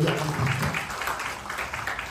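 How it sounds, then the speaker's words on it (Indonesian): Church congregation clapping at an Easter resurrection service, a brief burst of applause with voices mixed in underneath, moderately loud and fading slightly. "Beri tepuk tangan yang meriah."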